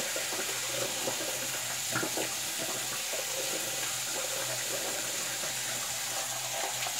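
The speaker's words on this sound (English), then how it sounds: "I'm gonna get the warm water running here" Warm water runs steadily from a bathroom tap ahead of a wet shave, a continuous broadband gush at close range with no voices.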